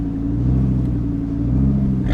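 A Lamborghini Huracan LP-610 engine idles with a steady, deep rumble while the car is put into reverse, loud and close throughout.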